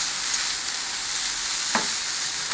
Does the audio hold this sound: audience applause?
no